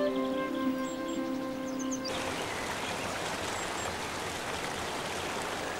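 A forest stream rushes and gurgles steadily, close and loud as broadband water noise, after a brief opening of sustained tones and faint chirps.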